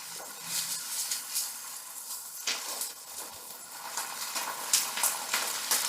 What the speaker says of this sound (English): Let's give the meat a little sear now